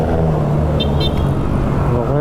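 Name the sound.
road traffic, cars passing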